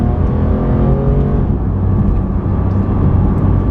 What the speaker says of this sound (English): It still sounds like a Porsche, like a proper GT Porsche.